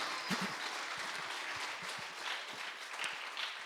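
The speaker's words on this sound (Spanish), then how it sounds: "Dele un aplauso al Rey de Reyes y Señor de Señores." A church congregation applauds during a Sunday service in praise of God. The clapping is fairly faint and somewhat sparse, with a few distinct nearby claps and soft thumps over a thin wash of hands across nearly four seconds.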